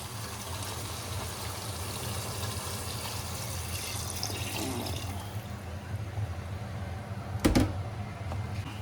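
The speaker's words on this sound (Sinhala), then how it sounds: "භාජනයට වතුර ටිකක් දාලා කලවම් කරලා" Water splashes into a seasoned cooking pot while mutton biryani is being made, a steady running pour close by, with a short sharp clatter near the end.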